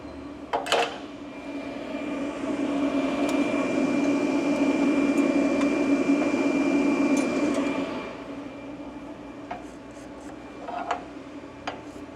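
AC TIG welding on cast aluminum produces a steady buzzing hum that runs for several seconds and then stops. Sharp clicks come at the start and near the end, and there is no talk.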